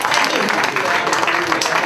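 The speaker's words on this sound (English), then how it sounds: "let's clap it up for the nod as well" Audience applause at a youth advisory council keynote event, a loud, continuous wash of clapping hands filling the whole moment, with some crowd voices mixed in.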